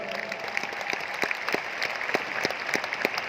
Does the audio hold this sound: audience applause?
yes